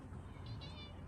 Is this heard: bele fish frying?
no